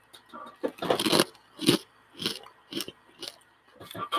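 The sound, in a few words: crunching while eating a crunchy spicy snack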